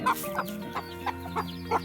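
Several hens and a rooster clucking in short separate bursts, close by, with a steady low background hum and no talking.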